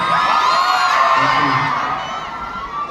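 A large concert crowd at a show in Kuala Lumpur screams and cheers continuously, with loud high-pitched shrieks and whoops forming a dense wall of sound that eases slightly toward the end.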